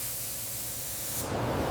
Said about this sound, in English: Royal blue coat, applied evenly over body panels.